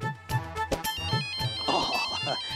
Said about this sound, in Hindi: देखो, मिस्टर दीक्षित का फोन आया है।